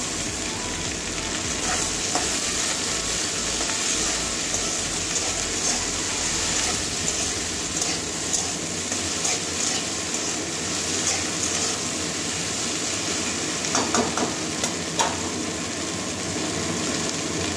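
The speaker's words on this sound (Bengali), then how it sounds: "পেঁয়াজ রসুন ভাজা হয়ে গেছে, এবারে ভেন্ডিটা দিয়ে দেবো" Okra sizzling and frying in a pan with onion and garlic, a steady dense crackle throughout with occasional stirring scrapes, close and fairly loud, no talking.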